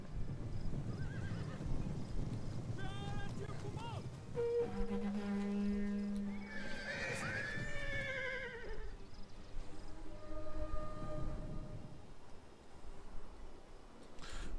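Cavalry horses in the Total War: Attila battle game whinny and neigh several times amid hoofbeat clatter and battle ambience, with a brief spoken unit acknowledgement in the mix.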